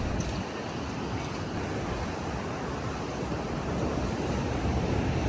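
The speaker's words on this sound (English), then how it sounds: "And the sound of the waves is blissful." Ocean waves breaking on a black sand beach at El Zonte, El Salvador, a continuous wash of surf with wind buffeting the microphone, steady and fairly close.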